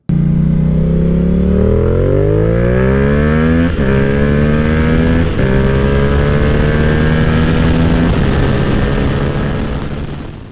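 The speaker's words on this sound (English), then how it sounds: "a little teaser right here just for you guys to kind of hear what it sounds like on the bike" A Yamaha R7 motorcycle with a Yoshimura R-77 exhaust revs loudly and close, its engine note climbing through several sharp rises and brief drops before settling into a steady drone that fades slightly at the end.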